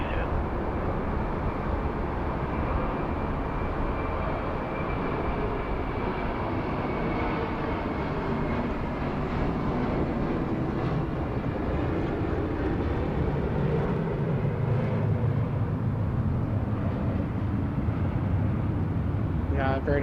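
A Jetstar Airbus A321 jet at Sydney Airport roars loudly and continuously, a broad engine rumble with a faint high whine that holds steady for the whole stretch.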